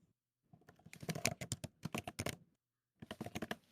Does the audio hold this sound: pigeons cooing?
no